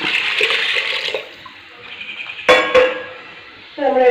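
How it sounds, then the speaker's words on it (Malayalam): Water splashes and pours into a pressure cooker for about a second, followed by quieter clattering and a couple of sharp metallic clangs, like a lid handled on a pot. "ഒരു വേകാൻ വെള്ളം കൂടി ഒഴിച്ച് നമുക്ക് അടച്ച് അടുപ്പിലേക്ക് വെക്കാം അതിൽ വെള്ളം ഒഴിക്കാം"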